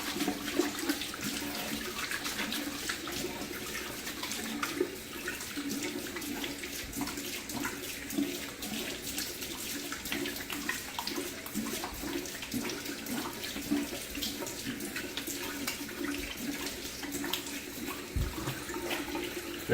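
Tap water runs steadily into a sink while shaving lather is rinsed off a razor, a continuous close hiss with small splashing changes and occasional clunks, lasting the whole stretch with no talking.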